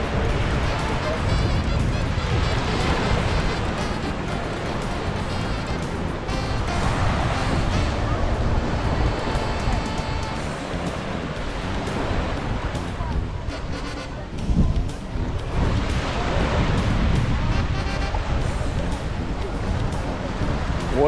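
Surf rolls in at Patong Beach in Thailand, a continuous broad wash of waves and wind buffeting the microphone, with swells in loudness and faint crowd chatter in the background.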